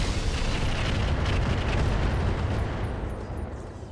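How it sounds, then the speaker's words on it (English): Rockets fired and exploding in the mech combat game RogueTech merge into a dense, steady, loud roar of blasts that eases slightly toward the end, with no one talking. "we're going to not fire this PPC, but we are going to fire our rockets"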